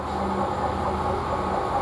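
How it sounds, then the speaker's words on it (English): A Freightliner freight train rolls through a railway station at Didcot Parkway, a steady loud rumble of wagons with low mechanical drone and no voices. "we've got another freight train coming through here"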